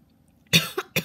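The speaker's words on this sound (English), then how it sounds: "I still have a little coughing" A person coughs close by, with one sharp cough followed by two shorter ones after a quiet start.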